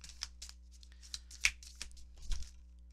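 Tarot cards shuffled by hand before a reading, a series of quick papery riffles and flicks in irregular bursts, close and fairly soft over a quiet room.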